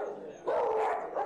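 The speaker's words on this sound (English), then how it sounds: "The dogs are still barking." A dog at the Lenawee Humane Society shelter lets out a short bark, a single bright yelp rising over quiet indoor background.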